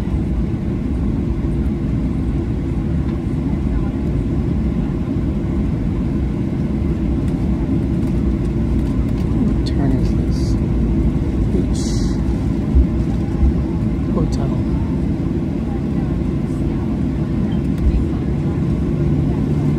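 Inside the cabin of a Southwest Airlines jet just after landing on Runway 33L at Baltimore-Washington International, a steady, heavy low rumble of engines and airframe drones on without a break.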